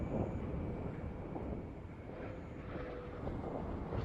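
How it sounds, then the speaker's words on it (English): Space Shuttle Atlantis landing on the runway at Kennedy Space Center comes through as a steady, distant broadband rumble, faint and even throughout, with no voices. "Main gear touchdown. Atlantis' nose being now rotated down toward the runway."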